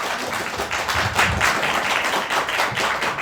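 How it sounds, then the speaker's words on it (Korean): An audience at a public gathering in Korea gives sustained applause, a thick, even wash of many hands clapping at once with almost no talking over it. "여러분 뜨거운 박수 부탁드리겠습니다."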